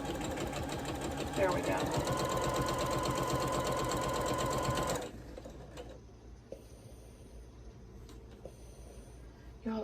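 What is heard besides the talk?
sewing machine stitching fabric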